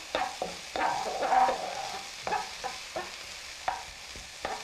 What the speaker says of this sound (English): look at this beautiful chopped red sweet pepper. Stir that around.